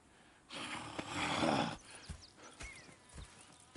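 A horse in the video game Red Dead Redemption 2 snorts and blows loudly, followed by a few soft hoof clops and small thuds, fairly close.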